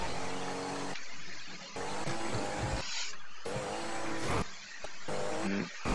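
A car driven around in a video game, its engine droning steadily with rising and falling revs and occasional tire squeals, loud and close throughout.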